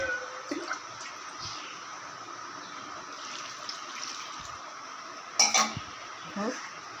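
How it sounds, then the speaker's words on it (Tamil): Water poured from a small vessel into a pot for boiling in a home kitchen, a low steady rush with a sharp metal clank near the end. "2 சொம்பு தண்ணி ஊற்ற போகிறேன்"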